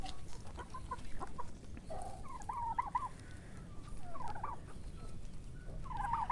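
Barbezieux chickens and roosters clucking and calling in short bursts at several points, moderately near over a steady rumbling background with no talk.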